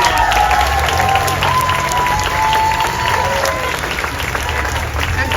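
A crowd applauds and cheers at the outdoor opening of Pride Square in Newtown, Sydney, with dense sustained clapping throughout and voices mixed in.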